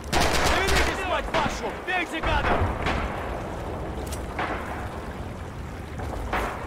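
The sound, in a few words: gunfire in video game Red Orchestra 2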